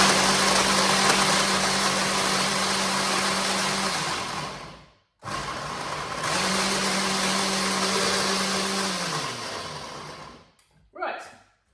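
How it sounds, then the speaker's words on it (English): A food processor chops cranberries in two loud whirring pulses, each lasting several seconds and whining steadily before spinning down. A short gap separates the pulses, and a brief final blip follows. "I'm just going to finally chop them up a little bit more"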